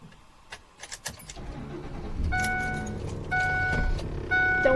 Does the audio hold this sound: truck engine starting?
yes